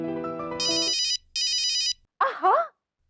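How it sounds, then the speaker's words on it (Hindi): A telephone ringtone plays in short electronic bursts after a sustained melodic tone, with a brief squeaky vocal sound at the end, clear and alone. "फोन बज रहा है तेरा"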